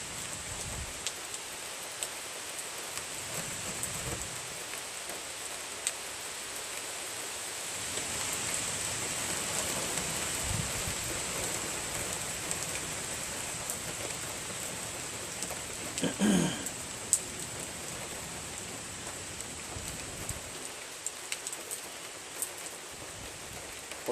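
Steady rain falls outdoors beside a Husqvarna K970 cut-off saw, a continuous even hiss with a few louder patters and knocks and no talk.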